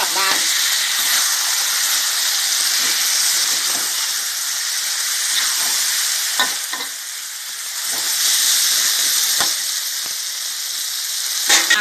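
Eggs sizzle and fry loudly in a hot pan with pickled mustard greens, a steady crackling hiss broken by the scrape of occasional stirring, close up with no talk over it.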